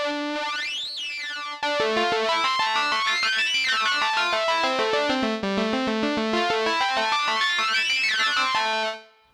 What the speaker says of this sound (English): we also have sync waveform